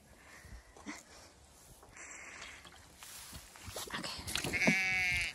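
Ewes bleat at a water setup on pasture, a few scattered calls near and far, the clearest one rising loud near the end, over faint outdoor background noise.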